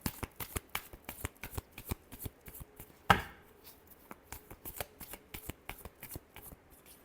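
Tarot cards being shuffled by hand, a quick run of crisp riffling snaps and flutters with one louder slap of the deck midway, close and with no talk.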